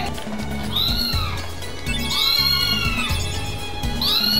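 A person's voice imitates a cat's meow, with three rising and falling mews spaced about a second apart over steady background music.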